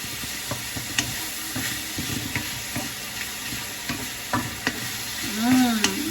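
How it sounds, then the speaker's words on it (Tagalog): Beef sautés in a pan with garlic and onion, making a continuous close sizzle. Light stirring clicks and scrapes recur throughout, and a louder swirl of movement rises near the end. "Igisa po natin siya sa bawang at sibuyas ang beef."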